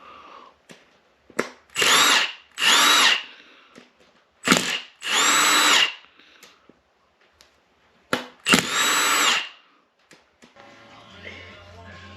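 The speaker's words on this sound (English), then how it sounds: "now we're just going to start taking some screws off the side cover" Several bursts of a cordless power drill backing screws out of a dirt bike engine's side cover, each whir lasting about a second with short gaps, close and loud, with brief clicks and light background noise between.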